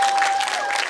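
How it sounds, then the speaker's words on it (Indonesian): A short burst of audience clapping at a stage event, dense and fairly loud, with a faint steady tone running beneath it. "Ini luar biasa, tepuk tangan sekali lagi."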